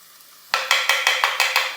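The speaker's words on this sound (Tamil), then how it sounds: "பூண்டு பெருங்காயம் இதெல்லாம் சேர்த்து லைட்டாக வதக்கி விடுங்க" Garlic, asafoetida and ground pepper-cumin powder sautéing in hot oil for rasam, a sudden loud sizzle breaking out and pulsing with a few quick stirring scrapes.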